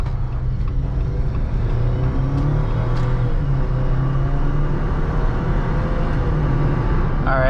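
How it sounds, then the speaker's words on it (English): A 2021 Jeep Wrangler Rubicon engine drones loudly and steadily throughout, a low rumbling hum with a bit of rising whir as it accelerates. "it's a pretty loud engine, to be honest"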